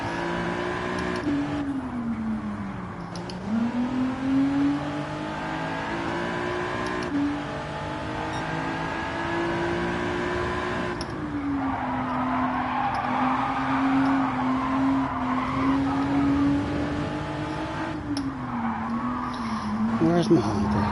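A race car in Gran Turismo 7 drifts flat out through a long corner, its engine note rising and falling steadily under continuous tire noise, with someone talking over it throughout.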